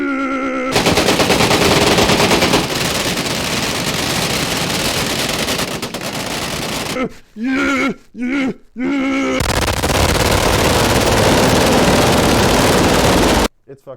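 Machine gun fire rattles loud and continuous for most of the span, with a few brief gaps of short bursts in the middle before resuming and cutting off near the end.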